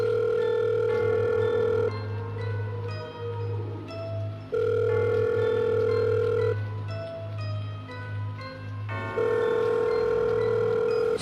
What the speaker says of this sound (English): The phone rang several times.